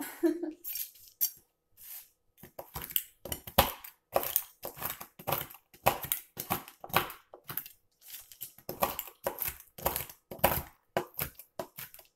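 Repeated sharp crunching chops in an irregular rhythm, close and fairly loud, with brief pauses between bursts of cutting.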